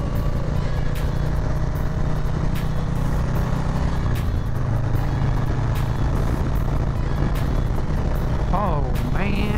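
A 2020 Harley-Davidson Low Rider S with a 2-into-1 exhaust rumbles steadily and loudly while being ridden, its deep engine drone holding constant throughout with wind noise over it.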